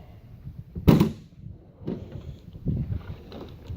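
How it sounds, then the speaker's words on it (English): A junk drawer in a Matco tool box is pulled open with a sharp metallic clunk, followed by softer rattles and sliding knocks as it sticks partway, close and with no talking. "Junk drawer, it's not even actually coming out all the way."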